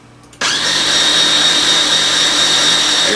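A food processor whirs loud and steady as it blends whipping cream into a thick fruit topping, starting abruptly after a short quiet moment and running continuously with a bright motor whine.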